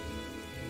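Steady rain falling in the Morrowind video game, a continuous dense hiss of drops with no pauses, heard alone at a quiet, even level.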